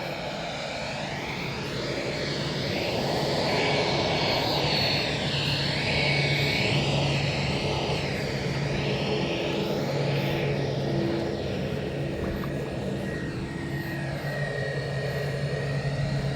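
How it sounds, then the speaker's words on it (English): An airplane's engines roar steadily as it climbs away from Corfu, a broad continuous rumble with a rising and falling whine, fairly distant, no voices. "we see a plane. Nicely taken off."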